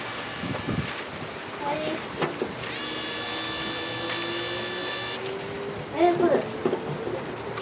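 An electric rear window motor on a Ford Bronco runs forward and reverse, giving a steady whine with a tonal hum, then a brief jump and clunk near the end.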